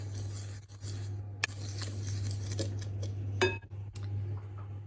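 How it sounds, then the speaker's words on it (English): Dry banana bread ingredients being stirred together in a mixing bowl, with a spoon clinking and scraping against the sides in short, close, uneven strokes over a steady low hum. "Now I just give these just a little bit of a stir together."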